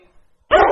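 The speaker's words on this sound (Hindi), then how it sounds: "कुत्ते की आवाज है।" After a moment of near silence, a dog gives a single sharp, loud bark close by.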